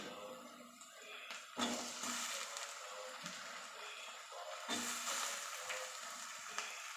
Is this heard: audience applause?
no